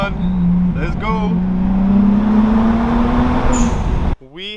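A Mercedes supercar with its muffler deleted accelerates through a tunnel, its loud engine note climbing steadily in pitch and echoing off the walls before cutting off abruptly, followed by a brief voice.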